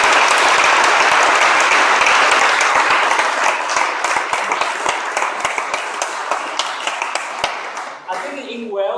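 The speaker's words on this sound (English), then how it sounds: "Let's give Bob a round of applause." Audience applause at the EuroVis 2014 visualization conference in Swansea, Wales: dense, steady clapping from a large hall crowd for about eight seconds, fading out at the end as a voice begins speaking.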